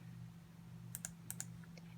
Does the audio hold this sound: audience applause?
no